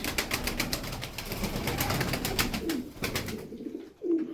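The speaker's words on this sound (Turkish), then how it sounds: "Bakın oyunlu kuş." Tumbler pigeons, Turkish play birds kept in a flock, coo in soft low pulses close by against a steady rustling background.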